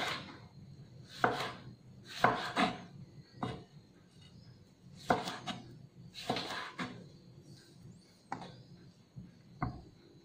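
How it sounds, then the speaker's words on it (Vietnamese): A knife cuts fresh tomatoes into wedges on a cutting board, producing close, sharp knocks in irregular bursts of two or three strokes separated by short pauses. "Cà chua mình sẽ cắt múi cao."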